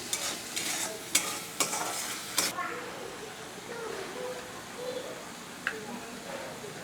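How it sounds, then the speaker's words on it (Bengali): Spice masala for a vegetarian soybean curry fries quietly in oil while a spoon scrapes and taps against the pan in several distinct strokes, leaving a soft, steady sizzle. "মশলাটা আমার তেল ছাড়া অবধি ভালো করে কষিয়ে নেব"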